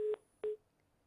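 Two short, faint beeps sound on a telephone line during a Hindi television news broadcast. They are evenly spaced tones, each lasting a fraction of a second, followed by quiet line hiss.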